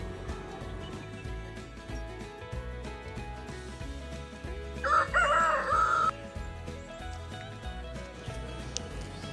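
A rooster crows on a farm raising chickens and ducks, one prominent cock-a-doodle-doo rising clearly over a busy background of clucking fowl and ambient noise, fairly close by.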